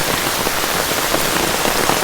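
Heavy rain falls while a young novice monk plays in water, a thick, unbroken patter of drops on surfaces, close and loud throughout with no talk.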